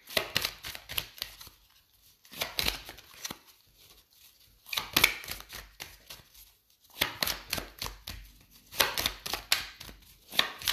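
Oracle card deck being cut and shuffled, bursts of rapid papery flicks and riffles in several clusters separated by short quiet gaps, close and crisp.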